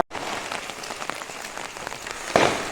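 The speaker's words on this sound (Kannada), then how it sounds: "ಮಳೆ ಸ್ಟಾರ್ಟ್ ಆಯಿತು" Steady rain pattering densely on a surface, loud and close, during a Basava Jayanthi festival, with a brief sharper burst of firecracker crackle near the end.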